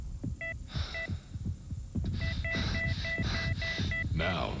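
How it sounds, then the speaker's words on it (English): Heartbeat sound effect in a Honda CR-V television advertisement: a steady, throbbing low thump repeating under a hum, with electronic beeping tones layered over it throughout. "Now, try to control your heartbeat"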